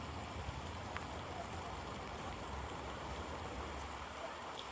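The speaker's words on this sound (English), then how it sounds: "Now it's raining quite so hard" Steady rain falls in a bluebell wood, a dense, even hiss of drops on leaves and ground that continues unbroken and fairly faint, with no voices.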